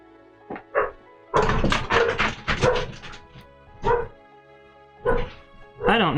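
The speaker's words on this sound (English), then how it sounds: "my dog just lost her damn mind upstairs, and she is barking up a storm" A dog barks upstairs repeatedly in bursts, with yips and whimpers mixed in, fairly loud, with pauses between volleys.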